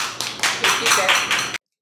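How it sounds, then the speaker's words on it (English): Short burst of audience hand clapping at a dating-show event in St. Louis, a quick scattered round lasting about a second and a half before stopping sharply. "please give him a hand clap for participating"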